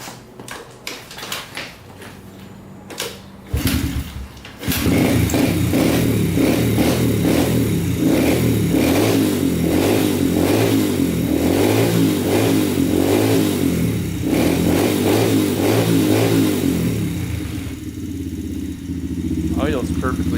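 A pit bike that sat in a barn for years, just after a carburetor fix, cranks for a few seconds, then catches and runs loud and close with steady revving and a clattery idle that dips near the end.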